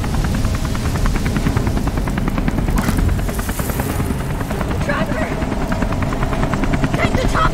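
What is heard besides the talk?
helicopter in the video game Beyond Two Souls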